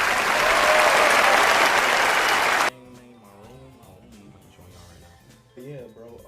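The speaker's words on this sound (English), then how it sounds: "clap it up, clap it up" A burst of loud crowd applause rings out for under three seconds, then cuts off abruptly to a quiet stretch where someone speaks.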